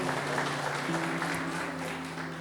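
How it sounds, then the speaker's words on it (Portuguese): A church congregation applauds Jesus during a worship service, a steady mass of clapping from many people, with sustained tones beneath it, continuing without pause at moderate distance. "Vamos aplaudir Jesus."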